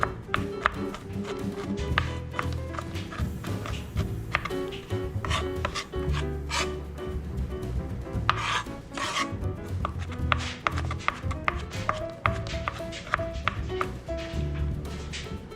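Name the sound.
mincing garlic with a knife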